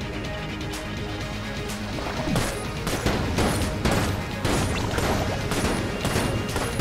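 Dense, continuous gunfire from a boss fight in the video game Enter the Gungeon, with rapid shots, crashes and impacts that build louder midway and keep pounding to the end.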